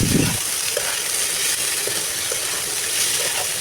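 Vegetable bhaji frying in a pan, a steady broadband sizzle running evenly and close throughout, with a few faint stirring knocks and no talking.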